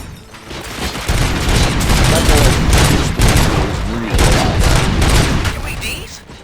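Loud, sustained gunfire in the video game RoboCop: Rogue City crackles in rapid bursts for several seconds, dense and close, with brief voices buried underneath.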